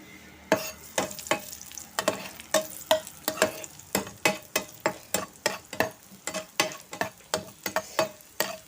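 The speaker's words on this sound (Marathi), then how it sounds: "तर आता मी ह्याच्यामध्ये ही मनुके भाजून घेते" Black raisins roasting in a dry pan, a rapid series of sharp, close scraping and tapping stirs nearly twice a second over a faint sizzle, with no voices.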